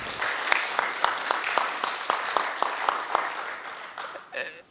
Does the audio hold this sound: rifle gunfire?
no